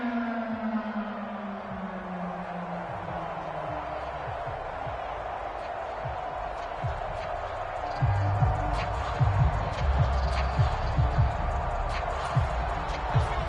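Stadium crowd in a football video game, a steady broadband roar that swells noticeably louder about two-thirds of the way through, with a voice faintly present beneath it.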